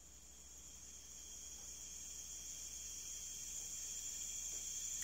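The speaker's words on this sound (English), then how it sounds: "A whole chorus of crickets." A steady, dense chorus of crickets trills continuously in the distance, a high shimmering drone that swells slightly louder toward the end.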